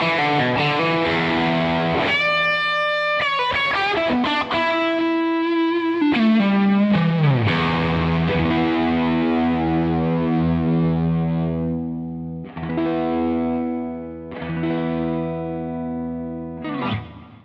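An electric guitar runs through the Bluesbreaker side of a Beetronics Wannabee dual drive pedal, giving a crunchy overdriven tone: picked single notes and quick runs, then ringing sustained chords that swell and decay, loud with no talking.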